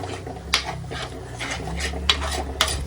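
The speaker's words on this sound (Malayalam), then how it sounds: "എണ്ണ തെളിയുന്നത് വരെ നമ്മൾ ഇതിങ്ങനെ ഇത് മിക്സ് ചെയ്തുകൊണ്ടിരിക്കണം" Chilli curry with ground chilli and pepper being stirred in a pan, metal spoon scraping and clinking against the pan in a steady rhythm with a few sharper knocks, close up and moderately quiet, no voices.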